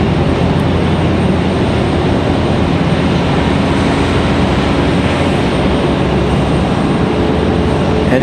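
A JetBlue airliner makes a second landing attempt at Raleigh-Durham, heard as a loud, unbroken jet engine rumble that stays constant throughout.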